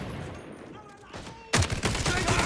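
An automatic rifle rattles off a dense burst of rapid shots in the tactical shooter video game Caliber, loud and close, erupting suddenly after a quieter stretch of game ambience.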